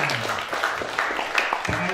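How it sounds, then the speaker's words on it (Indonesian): An audience at a young entrepreneurs' business seminar claps steadily for about two seconds, a dense patter of hands with a voice speaking over it. "Oke, tepuk tangan."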